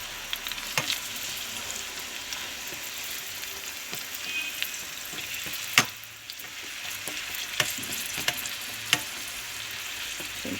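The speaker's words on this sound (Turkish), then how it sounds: "soğanlarımızı soteliyoruz" Finely chopped onions sautéing in a pan give a steady close sizzle, with occasional sharp clicks and scrapes from stirring and no talk.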